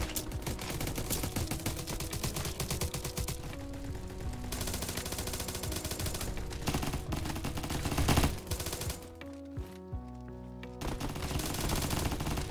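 Rapid bursts of FAMAS rifle fire from a Roblox Bad Business match, loud and near, with dense automatic volleys running almost throughout and a short lull near the end.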